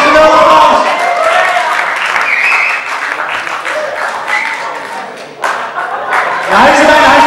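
Audience applause at a talent show fills the space loudly and continuously, with cheering voices and talk mixed in; it thins briefly before swelling back to full strength at the end.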